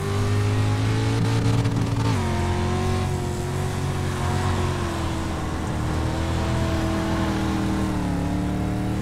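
Dirt street stock race car engines roar in the iRacing video game, a loud sustained drone that dips and climbs as a nearby car shifts and revs under throttle, with other cars droning behind it.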